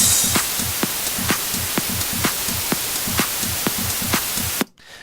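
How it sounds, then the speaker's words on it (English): A steady hiss of white noise sample loop with faint rhythmic ticks and low pulses looping underneath, cutting off abruptly near the end. "So we've got this white noise sample. It's basically just a white noise loop."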